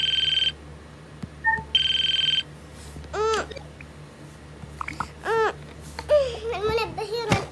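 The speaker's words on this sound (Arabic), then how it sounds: "المنبه يرن." An alarm clock rings in the Toca Boca game with two short bursts of steady electronic ringing, followed by gibberish cartoon voices babbling.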